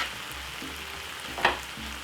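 Garlic sizzles in a hot pan for jerk prawns, a steady soft frying hiss with a sharp crackle or stir near the end and no talking.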